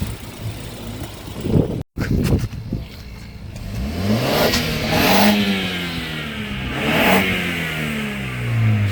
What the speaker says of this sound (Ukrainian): Закривайте поки. Зараз газнете.